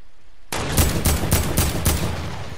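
Rapid gunfire in the video game Fortnite, about five loud bursts fired in quick succession after a sudden start, dense and close with no talk over it.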